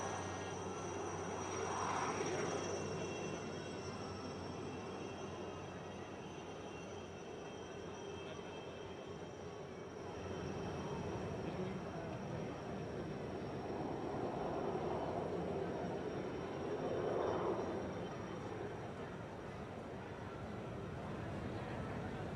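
Forty helicopters fly past together at Mauritius National Day celebrations, a continuous broad rotor and engine roar that swells as groups pass, loudest near the start and again toward the end.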